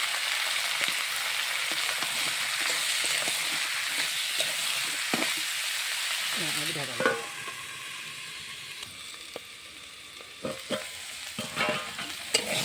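Chopped teasel gourd (kakrol) frying with turmeric and salt in a pan, a steady close sizzle broken by scraping stirs and clinks of a spatula throughout.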